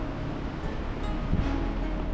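Steady wind rushing and buffeting on a cold, dark night outdoors, a broad continuous roar with low gusty rumble, loud and close, no voices.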